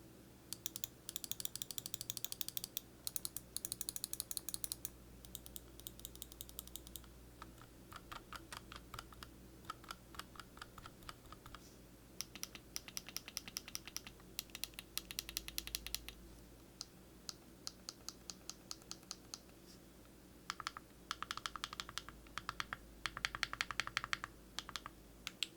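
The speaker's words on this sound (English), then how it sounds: "Moving on to the buttons, here is a listen to the clicks." Crisp, small computer mouse button clicks repeat in quick bursts and steady runs, close up and fairly quiet, with brief pauses between groups.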